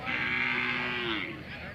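A single cow or bull at the Gandasi cattle market in Hassan district gives one clear, drawn-out moo lasting about a second over low background murmur.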